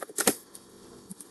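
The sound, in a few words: typing on a computer keyboard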